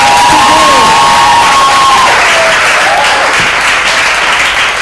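Audience at a poetry recitation competition final applauds loudly and cheers, with sustained dense clapping, whoops and crowd shouts filling the whole stretch.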